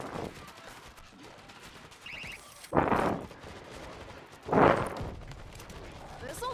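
Two loud bursts of pulse rifle gunfire in the video game World War Z, each about half a second long and a couple of seconds apart, with faint game noise and some talk around them.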